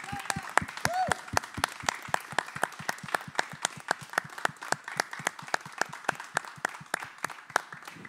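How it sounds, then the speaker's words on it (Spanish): Rhythmic, fairly steady clapping from a small group in a moment of applause for health workers during the 2020 pandemic, sharp evenly spaced claps close by, with a faint voice briefly over the start. "Vamos a dar un aplauso en este momento a todo el personal de salud."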